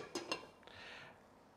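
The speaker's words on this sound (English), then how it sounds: "And put the lid on." A lid goes onto a large saucepan of master stock with a couple of quick, faint metallic clinks and a soft settling rattle, close by and quiet.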